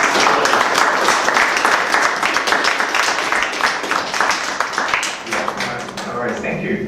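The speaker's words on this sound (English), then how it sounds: "Maybe we give Peter one last round of applause" A round of audience applause closing a landscape architecture talk, dense clapping from many hands at moderate loudness, tapering off toward the end.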